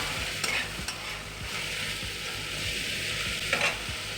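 Pumpkin and potato pieces with salt and turmeric sizzling in a pan as they are fried and stirred, a steady close crackle with occasional scraping strokes of the spoon.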